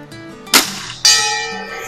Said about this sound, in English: the pellet finally striking that bell